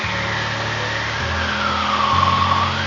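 A Piper Super Cub light airplane engine drones steadily and loudly throughout, its pitch shifting slightly as the aircraft runs during landing practice on pavement.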